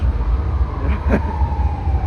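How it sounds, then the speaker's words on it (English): A distant ambulance siren wails faintly over steady traffic noise on a downtown Los Angeles street at night. "You hear the ambulance? I hear him right now."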